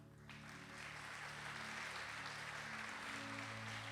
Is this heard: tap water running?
no